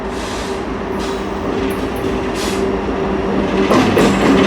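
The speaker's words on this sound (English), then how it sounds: "grab a northbound grain train pulling into the siding" A northbound Kansas City Southern grain train rolls into a siding, its loud continuous rumble of railcars and wheels steadily building, with brief squeals and clatter of wagons.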